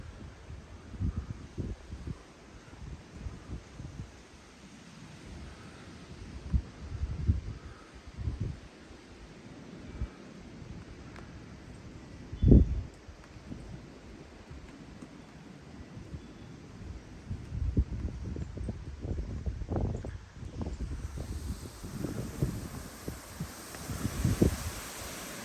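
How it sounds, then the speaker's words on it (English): Strong gusty wind ahead of an approaching rainstorm, rushing outdoors with uneven bursts of buffeting and rustling that rise and fall over about half a minute, with one sharp thump partway through and no talking. "Look at that wind. It's going."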